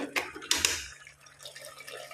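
Water is poured into chicken masala in a pressure cooker, giving splashing, trickling bursts near the start and a softer gurgle afterward, close and fairly quiet.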